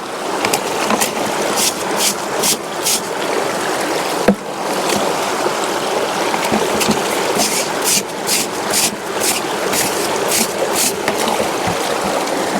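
A clean river stream in a hill-country village, where water is scooped for drinking and clothes are washed, flows in a steady, close rushing babble with small splashes throughout and no talking.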